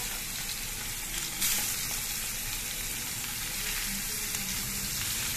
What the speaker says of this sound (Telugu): మనం ఆయిల్ మరిగాక మనం చేపలు వేపుకుందాం.